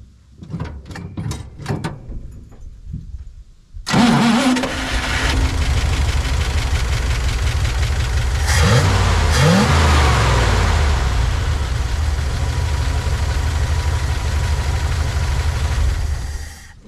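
A car engine fitted with a rebuilt Bendix Stromberg carburetor cranks with several quick starter bursts, catches and roars to life, then settles into a loud, steady rumbling idle with a brief rev midway.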